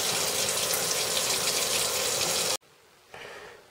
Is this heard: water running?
yes